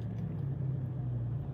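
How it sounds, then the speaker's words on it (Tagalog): A car rumbling past on a road, a steady low engine drone held close and fairly loud throughout, with no voices over it. "naku, may sasakyan, nakakatakot."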